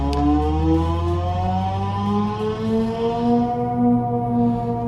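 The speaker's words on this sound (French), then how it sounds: "un gros bloc mais avec un bruit synthétique, un peu navette spatiale" Synthetic spaceship-like engine tone from a Tesla fitted with a Maxhaust sound booster, a steady layered hum with harmonics slowly rising and falling in pitch, loud and continuous, with no talking.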